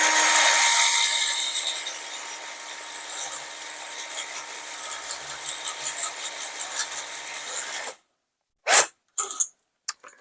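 A cylinder hone spins inside a metal housing bore for a chain drive spool, giving a steady close whirring grind for about eight seconds. It then stops abruptly, followed by a few short clunks.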